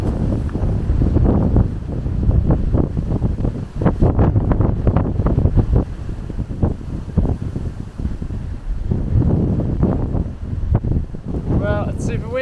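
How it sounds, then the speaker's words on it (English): Strong wind in the Budawang Range, Australia, roars and buffets the microphone nonstop, a loud, rough rumble with gusty surges throughout. "Super windy"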